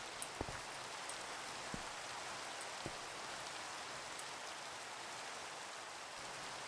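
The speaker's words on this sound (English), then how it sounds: "it's raining" Steady, faint rain falls outside as a soft, even hiss, with a few sharper drips and taps near the start.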